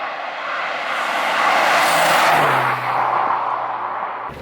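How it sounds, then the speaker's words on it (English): Ford Escort RS Cosworth turbo car in motion: broad engine and road roar swelling and easing, with a hissing rush from the turbo dump valve blowing off as the revs drop. "you hear that dump valve there,"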